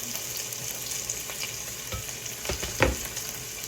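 Onion and garlic fry for chicken curry in a continuous hiss of hot oil, with a few brief stirring scrapes and one louder clatter near the end.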